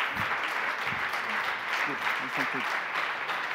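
A live convention audience on stage at Media Convention Berlin applauds to welcome the team of the series Acht Tage. The clapping is sustained and fairly loud, filling the room, with a few voices and cheers mixed in.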